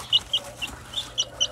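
A hen clucks close by in a quick series of six or seven short, sharp notes at a steady rhythm, with no talking over them.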